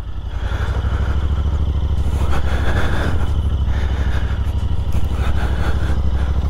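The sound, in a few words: Royal Enfield Interceptor 650 motorcycle riding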